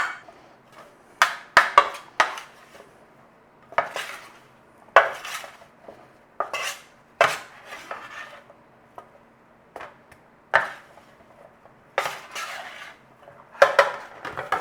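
New potatoes, smashed and dusted with a couple of tablespoons of cornstarch, tossed together in a bowl: a close, irregular run of clinks, knocks and scrapes with short quiet gaps and no talking.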